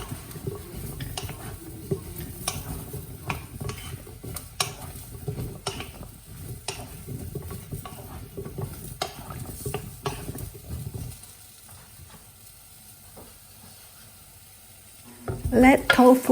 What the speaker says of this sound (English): Do some stir fry.